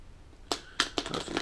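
A deck of playing cards shuffled by hand for a card trick, giving a few sharp riffling bursts close to the microphone with brief pauses between them.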